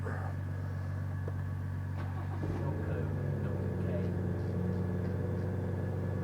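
A BMW M240i engine idles with a steady, muted low hum while another car idles nearby, and a brief start-up surge rises partway through; faint and distant, with some background voices.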